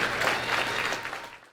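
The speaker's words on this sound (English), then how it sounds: "let's give everybody the Booster Club a round of applause" A round of applause for the Booster Club at a high school football awards dinner, a dense wash of many hands clapping from the whole room that holds steady, then tapers and fades out at the end.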